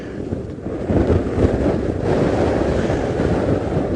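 Loud, gusty wind during an outdoor safari drive buffets the microphone continuously, a dense low rumble with no voices.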